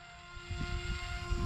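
A steady electric motor whine of a small HobbyKing AXN Floater model plane with a Blue Wonder motor, holding a constant pitch with a low rumbling undertone, fairly close.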